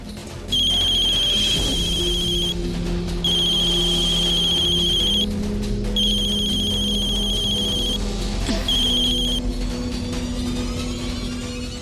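A phone rings in repeated electronic bursts, each a steady bright tone lasting about two seconds with short gaps, over a low background hum.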